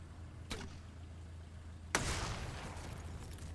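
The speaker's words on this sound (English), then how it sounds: "I'm going to try to grenade behind it." A grenade goes off in the tactical strategy game Xenonauts 2: a short sharp crack, then a louder close blast that leaves a rushing, fading tail over a steady low hum.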